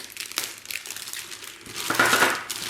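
Packing paper from a Cruz Tools pilot toolkit box crinkles and rustles in a few short, close bursts, louder toward the end, with no voices.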